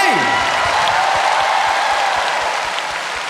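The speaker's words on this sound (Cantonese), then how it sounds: "俾多啲掌聲" Concert audience applauding for the band's musicians and dancers at a Grasshopper reunion concert in a large venue, broad clapping with a pulsing low thump under it, steady and loud throughout.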